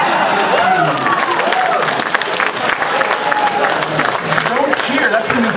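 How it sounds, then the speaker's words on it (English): Convention audience cheering and clapping in a large hall, a dense, continuous wash of applause and shouts lasting throughout, fairly loud and close, with scattered voices mixed in. "Don't cheer."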